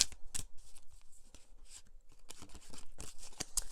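Tarot cards shuffled and handled during a reading: a steady run of crisp papery riffles and flicks with sharp snaps, close and fairly loud, no voices.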